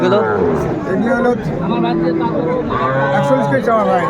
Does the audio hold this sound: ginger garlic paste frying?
no